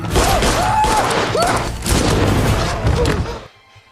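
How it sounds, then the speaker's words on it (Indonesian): A film shootout erupts in a loud, dense burst of overlapping gunfire and booming impacts, with shouted voices caught up in the chaos before everything cuts out abruptly. "terjadi tembak-menembak"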